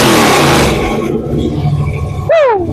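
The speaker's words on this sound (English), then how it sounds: "There's so much bass from the exhaust of this car." A car's exhaust roars loudly and deeply as the engine revs hard, then fades, followed by a sharp rising-and-falling whoop near the end.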